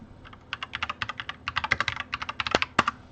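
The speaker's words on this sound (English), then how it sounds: "Sorry, I must have typed in the wrong." Typing on a computer keyboard, a quick close patter of clicky keystrokes in short bursts with a couple of heavier key strikes near the end, fairly quiet and without talk.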